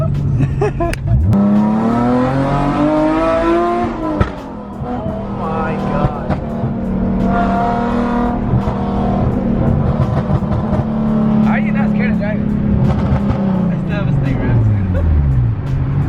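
A drifting BMW M3 at a car meet, its engine rising and falling in long revving sweeps with tire noise, loud and close, while people talk and shout over it.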